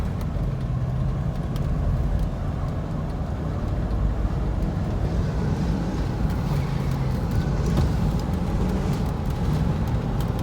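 A 1994 Ford Bronco Eddie Bauer cruising down a street, heard from inside as a steady low engine drone and road rumble with the air conditioning running, continuous and fairly loud throughout.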